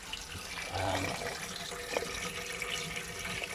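Hot water runs from the tap of a VW Westfalia camper van in a steady, quiet, close hiss, with a soft splash into the sink and no speech.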